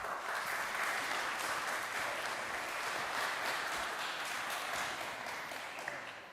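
Audience at a university lecture event claps in a dense, even wash of applause that holds steady for several seconds, moderately distant in the hall.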